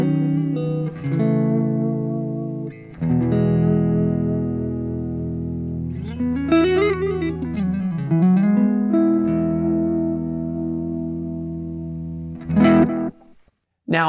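Electric guitar recorded through an MBOX Studio interface at a low 22K input impedance: sustained, slightly dark chords ringing with a bent, warbling passage in the middle, loud and alone, ending with a short strum.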